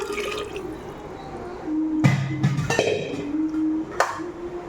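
Water is poured into a pot of cooked navy beans in a home kitchen, with uneven splashing bursts and trickles followed by scattered drips, close and fairly loud, with no talking.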